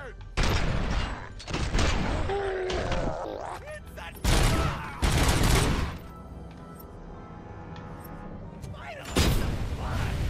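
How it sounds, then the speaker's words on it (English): Gunfire and explosive blasts from the RoboCop: Rogue City video game, with loud broadband bursts including a grenade explosion amid combat, over continuous background noise. "That was a grenade."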